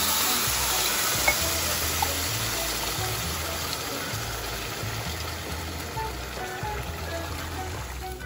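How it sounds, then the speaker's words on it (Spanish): Water pours from a cup into a hot pan of browned rice, a continuous splashing gush with a faint sizzle that holds steady and close throughout, with no talk over it. "Ahora le voy a agregar las 2 tazas de agua."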